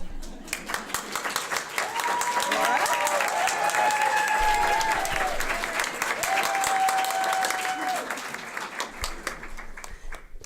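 Audience applause for award recipients at a Contra Costa County crime victims' rights recognition ceremony, a dense, steady clapping that swells and holds for about ten seconds before easing off.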